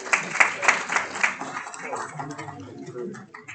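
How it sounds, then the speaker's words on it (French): A conference audience claps, with dense scattered hand claps loudest at the start and then thinning into a softer, fading patter while a voice speaks over the end. "vous pouvez vous applaudir en vrai"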